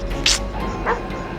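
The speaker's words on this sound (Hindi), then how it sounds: "गाइस बहुत ज़ोर ज़ोर से कुत्ते भौंक रहे हैं" Dogs bark outdoors at night around 3 am near a graveyard, giving two short yelping barks, one sharper and louder, the other softer and farther off, over a low steady background hum.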